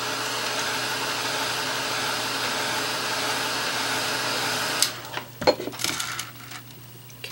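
Hair dryer blowing steadily to dry wet acrylic paint on a canvas, a close continuous whooshing drone that cuts off near the end, followed by a few light clinks and knocks.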